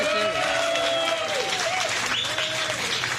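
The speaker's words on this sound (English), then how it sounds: "Nice round of applause." Sustained applause from a crowd fills the clip, with overlapping voices and some whooping mixed into the steady clapping.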